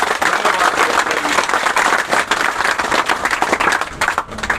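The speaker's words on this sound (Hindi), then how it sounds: "एक बार जोरदार तालियों से इनका" Loud, dense audience applause at a gathering honoring men who held a nine-day hunger strike, a continuous roar of many hands clapping close by without a break.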